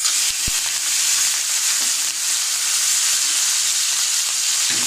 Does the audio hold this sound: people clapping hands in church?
no